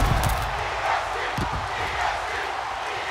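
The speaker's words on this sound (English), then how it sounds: "The crowd going crazy." Crowd noise in the wrestling video game WWE 2K24 during a Bianca Belair match, a steady wash of cheering roar at moderate level with brief thumps, no clear speech over it.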